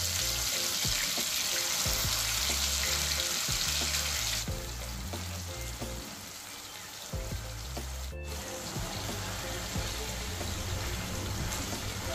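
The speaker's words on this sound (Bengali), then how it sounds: "এরপর চিকেনটাকে ফ্রাই করে নিচ্ছি। তো হাই ফ্লেমেই ফ্রাই করব।" Chicken fries over a high flame for an Afghani chicken dish, a steady loud sizzle with crackling bursts and low clattering, briefly quieter midway before building again, no one talking.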